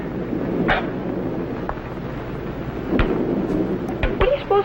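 A radio-drama thunder effect, a lightning storm, rumbles as a low, dense roll with a few sharper cracks, loud and steady across the short stretch with no voices.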